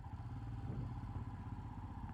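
A Royal Enfield Himalayan motorcycle on a ride, its engine producing a steady low rumble and throb with some mechanical clatter, close and continuous without talking.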